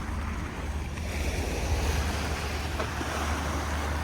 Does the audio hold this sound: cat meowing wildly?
no